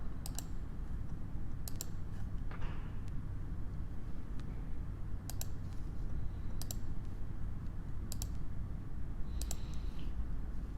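A computer mouse clicks the X sign in Vera controller settings to remove a parameter, five or six sharp, isolated clicks spaced a second or two apart over a low, steady room hum.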